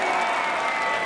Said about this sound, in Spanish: ¡Aplauso fuerte, Chile!